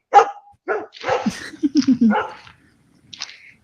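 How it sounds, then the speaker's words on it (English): Dogs bark outdoors by a creek: a burst of sharp, close barks and yips, including a quick run of short rhythmic yaps, then a faint whine after a brief quiet gap. "But say hi, dag blasted dogs."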